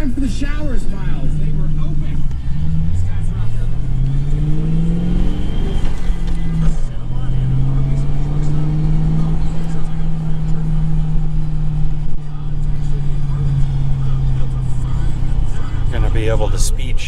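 A manual five-speed Crown Vic driving, its engine droning steadily with pitch rising and falling through gear shifts, heard from inside the car under a person talking.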